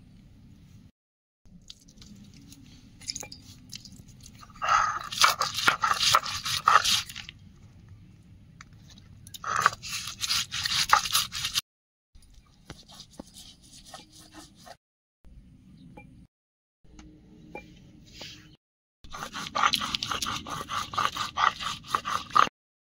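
White and black mustard seeds with green chillies, a pinch of salt and turmeric are ground into paste, giving repeated soft scraping, rubbing bursts with quiet gaps between them.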